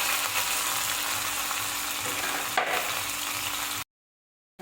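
Green chillies and coriander drop into a hot oil tempering for a koshimbir salad, giving a steady close sizzle with a brief flare partway through, then an abrupt cut to silence.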